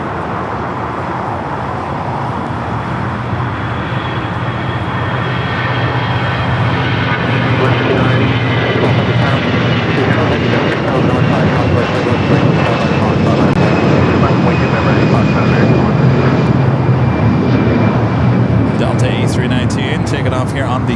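A Delta jet airliner takes off from LAX's south side runways with a loud, building engine roar that swells and sustains throughout, heard from a distance along with faint background traffic.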